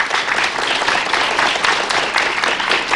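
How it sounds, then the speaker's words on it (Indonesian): A TV studio audience on a health talk show applauds a guest, steady dense clapping throughout. "tepuk tangan buat tamu saya"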